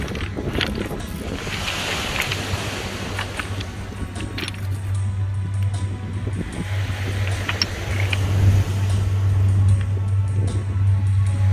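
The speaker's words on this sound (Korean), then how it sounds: "쉬지 않고 잠들지 않는 파도 소리" Waves washing over a pebble beach on a windy shore, a continuous rushing surge near and fairly loud, with wind buffeting the microphone throughout.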